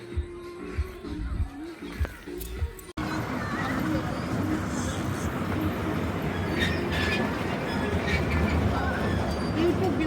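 A driverless automatic park train running, first under brief voices and rattles, then a steady rolling rumble with wheel and carriage noise that stays loud to the end.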